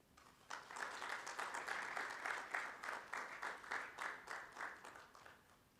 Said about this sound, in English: Another big round of applause for the CEO, Grace.